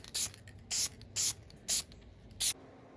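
A spray can of Duplicolor vinyl and fabric paint, in black, lets out five short hissing bursts at an even rhythm, close to the mic, laying a light dust coat on car door panels.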